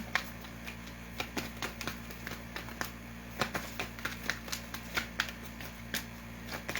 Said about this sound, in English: Two more shuffles, and I'll pull from the top.